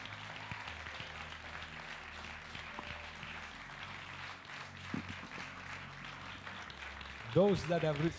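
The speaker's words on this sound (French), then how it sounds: "nous devons donner à Jésus un magnifique applaudissement de louange" Applause from a church congregation rolls on under a speaking voice, steady clapping throughout with a louder burst near the end.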